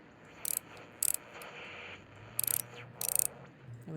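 Tiny screws being driven into the back panel of a retro device in a repair shop game, four short bursts of rapid ratcheting clicks close up against a quiet background.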